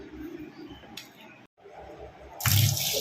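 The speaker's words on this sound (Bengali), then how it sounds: "চলো এগুলোকে আমি মাটনগুলোকে পরিষ্কার করে ধুয়ে নিই" Tap water runs steadily into a sink as raw mutton is washed, with a brief pause before a louder gushing surge near the end.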